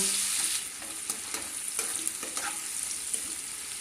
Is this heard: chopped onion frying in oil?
yes